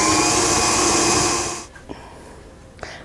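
A stand mixer whirs loudly while mixing wet ingredients for chocolate chip cookie dough, then cuts off abruptly, leaving a quiet room with a couple of faint soft knocks.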